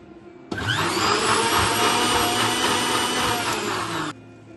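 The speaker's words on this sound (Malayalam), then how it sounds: "നമുക്കിനി ബ്ലെൻഡ് ചെയ്തെടുക്കാം ബനാനയെ വെച്ച്." A mixer blender whirring through banana and custard starts abruptly, runs as a loud steady motor drone for about three and a half seconds, then cuts off, no speech.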